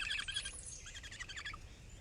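A great horned owl calls close by, a rapid series of high chirping notes in the first second and a half, then quieter background.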